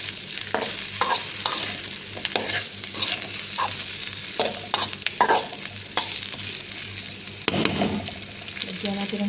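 Vegetables fried and stirred in a pan, a soft sizzle with repeated scraping and clinking strokes of a utensil, fairly close but quiet, with a voice speaking briefly over the cooking.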